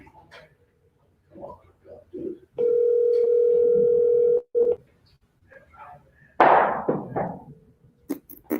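A steady telephone dial tone sounds for about two seconds on an outgoing call, loud and clear, between snatches of talk and followed by a sharp clatter.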